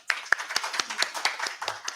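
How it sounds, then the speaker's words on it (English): Several people clap a short round of applause for Lilian at an early morning community gathering, with sparse, uneven claps close by. "Round of applause for Lilian."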